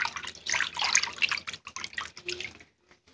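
Soapy water splashing and dripping while a Webkinz plush toy is bathed, irregular close sloshes and trickles that thin out to a few faint drops at the end.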